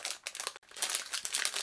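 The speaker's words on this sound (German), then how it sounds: "wir haben eine Tüte mit Schrauben" A plastic bag holding screws for a dual monitor stand is handled and crinkled up close, with a brief pause before the crackling rustle resumes, louder and denser.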